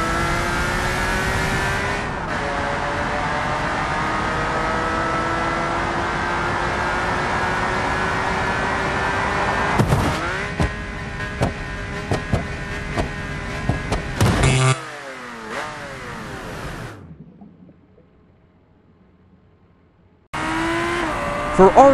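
A TVR Sagaris in the BeamNG Drive racing game roars at sustained high revs with rising engine harmonics, then a burst of crash impacts and crunching, a brief near-silence, and the engine returning loud at the end.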